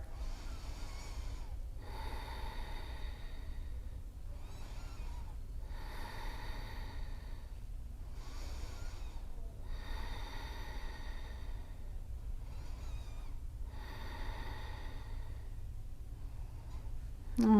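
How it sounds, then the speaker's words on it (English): Slow, deep yoga breaths drawn in and out during a seated balance pose, each breath a soft airy rush repeating roughly every two seconds, close to the microphone with no talking. "Take a few breaths."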